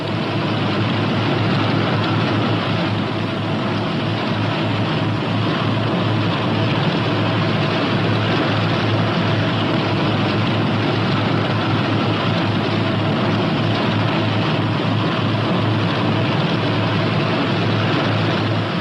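Twin piston engines of a P-61 Black Widow night fighter rumble steadily while the aircraft taxis, a loud, continuous low drone without pause and no voices.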